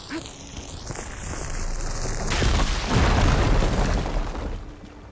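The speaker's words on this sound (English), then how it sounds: "Should be able to blow up that fire gleam." A fire gleam blown up in Horizon Forbidden West: a rising whine gives way to a loud, broad explosive burst around the midpoint that rumbles and slowly fades, with no talk.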